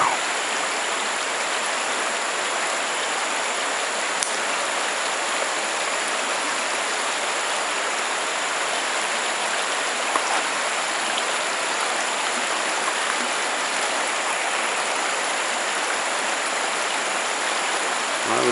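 A small river flows steadily nearby, a continuous broadband rushing wash that holds constant and loud throughout with no breaks.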